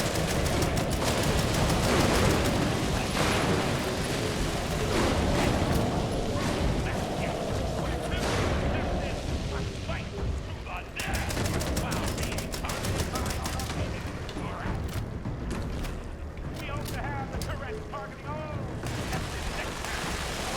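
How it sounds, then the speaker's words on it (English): Gunfire and explosions crackle through a Fallout 76 battle, with bursts and a blast-like surge amid steady combat noise while someone talks over it. "Hopefully that was a plasma grenade, not a pulse grenade. Oh, that was a pulse grenade."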